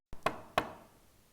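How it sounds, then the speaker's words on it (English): Two crisp knocks on a door, evenly spaced and close, with a brief ringing decay and quiet surroundings. "Little Red Riding Hood came some time afterwards and knocked on grandmother's door."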